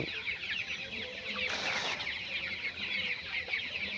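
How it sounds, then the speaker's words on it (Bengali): Broiler chicks about nineteen days old in a poultry farm shed, a dense flock chirping and clucking continuously at steady volume, with a brief louder burst of activity partway through and no talking. "ছয়শো আশি পিস মুরগি দেওয়া হয়েছিল তার মধ্যে কিছু মুরগি কেটে গিয়েছে"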